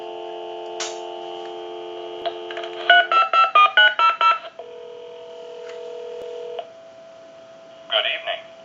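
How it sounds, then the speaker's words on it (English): Telephone dial tone on a converted Kellogg wood wall crank telephone, a steady hum followed by a quick run of touch-tone dialing beeps, then more tone and a faint voice at the end. "We'll give you some dial tone."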